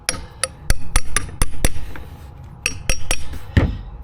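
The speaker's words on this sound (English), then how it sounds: "socket and hammer it, and make it flash with the casing. If I will hammer it all the way in" A hammer drives a socket against an oil seal in a mobility scooter casing, striking in a steady run of sharp metallic taps. A brief pause comes midway, then more blows follow.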